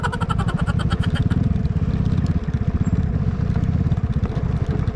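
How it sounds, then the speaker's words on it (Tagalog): Several motorcycles and scooters pass along a beach road at Tagong Paraiso in Pagbilao, Quezon, a loud, steady engine drone with rhythmic pulsing close by, no talking. "Ang daming nakamotor mga lods."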